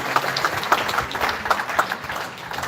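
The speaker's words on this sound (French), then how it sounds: "Beaucoup d'applaudissements pour Kambale Musavuli" Audience applause at the 2023 Victoire Ingabire Prize for Democracy and Peace ceremony, a dense, steady patter of many hands clapping at moderate distance with faint voices underneath.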